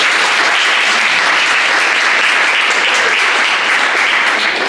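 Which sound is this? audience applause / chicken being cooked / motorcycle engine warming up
audience applause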